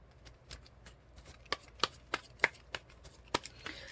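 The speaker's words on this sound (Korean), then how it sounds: "이 카드가 뭘 의미하는지 제가 한번 뽑아볼게요" Tarot cards are drawn and handled from a deck, giving a series of short, crisp snaps and slides at an irregular pace, close and fairly quiet with no voices.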